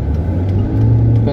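A car engine hums loud and close with a steady low rumble that rises slightly partway through as the gas is pressed.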